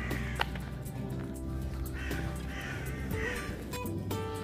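Crows caw a few times in the distance over a quiet woodland background near an old lighthouse in June, with occasional soft rustling.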